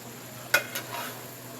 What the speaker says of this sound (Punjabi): ਇਹ ਦੇਖੋ ਅਸੀਂ ਹੁਣ ਚਾਵਲ ਲੱਗੇ ਆ ਜ਼ਰਾ ਮਿਕਸ ਕਰਕੇ ਦਮ ਤੇ ਲਾਉਣ